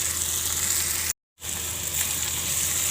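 Green chillies hit hot oil in a pan for palak paneer, producing a steady, close frying sizzle that briefly cuts out to silence midway before the hiss resumes.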